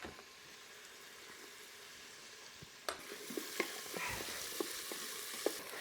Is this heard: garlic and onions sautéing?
yes